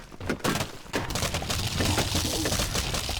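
Explosion sounds in the video game Plants vs Zombies Hybrid, a couple of sharp cracking bursts followed by a sustained rumbling, crunching blast.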